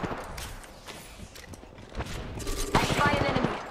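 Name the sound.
gunfire, shooting in the video game Fuse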